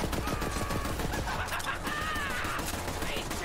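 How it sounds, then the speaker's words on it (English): Full-auto pistol gunfire in Borderlands 3, fast dense bursts of rapid shots running steadily throughout, with game sounds and faint voices mixed in. "I love these full auto pistols, man"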